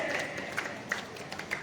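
Clapping rises from the audience at an all-India poetry gathering of humorous and patriotic poets in Etawah. A brief, moderately loud patter of many hands is heard, with a few sharper individual claps standing out.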